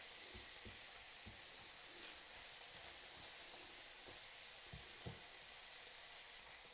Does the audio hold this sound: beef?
yes